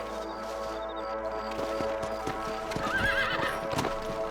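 Hooves clip-clop in a steady rhythm close by, and a horse lets out a high whinny partway through, all set against a soft musical backdrop, in the video game Red Dead Redemption.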